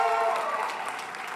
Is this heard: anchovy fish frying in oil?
no